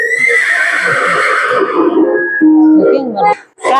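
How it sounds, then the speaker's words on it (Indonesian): A horse neighs loudly and close, a long, shrill whinny that wavers and trails off into a few shorter snorting calls, heard alone without talk. "Namanya Kuda."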